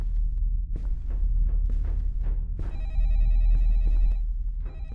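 Telephone ringing inside The Last Scream horror game, a repeating electronic bell-like trill that starts midway and sounds in bursts over a low droning ambient background, with a brief gap before it resumes.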